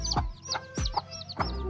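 Chickens cluck loudly and close while being caught and marked, four sharp agitated squawks spaced evenly across a short stretch with no talking.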